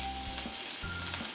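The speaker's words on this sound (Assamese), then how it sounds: "এটা কেৰাহীত তেল অলপ গৰম কৰি লৈছো, তাত দি দিছো পিয়াজ," Close, steady sizzle of chopped onion and crushed ginger frying in hot oil in a wok while making a fish head ghonto, a constant crackling hiss with a faint low hum underneath.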